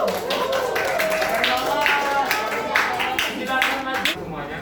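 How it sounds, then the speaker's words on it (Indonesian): A classroom of students claps for a group about to present, with scattered, uneven claps over a busy room and some voices talking in the background. "Kita beri tepuk tangan untuk"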